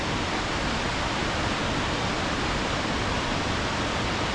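Jog Falls sends up a continuous broad roar of falling water, loud and unchanging from start to finish, with no voices over it.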